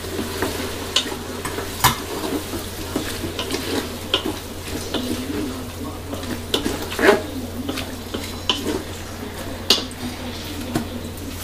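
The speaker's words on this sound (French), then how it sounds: "J'ajoute mes 500 g de calamars ou de sèche." Squid or cuttlefish, 500 g for calamari basquaise, sizzles in a pan while being stirred, with scattered utensil scrapes and clinks over a steady low frying hiss and a faint background hum.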